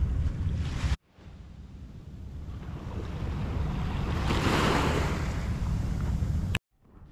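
Surf rolls steadily onto a beach at La Union, a continuous broad wash of breaking waves with some wind rumble, swelling louder in the middle and cut off abruptly near the end.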